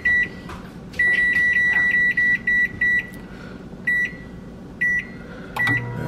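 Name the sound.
700 watt low power microwave oven running and beeping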